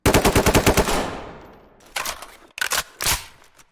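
A rapid burst of automatic gunfire in the video game Ready or Not rattles off, then a few separate louder shots and impacts follow after a short pause.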